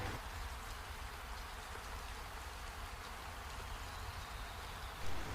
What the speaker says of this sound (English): it starts raining as you hear the sound of clouds thundering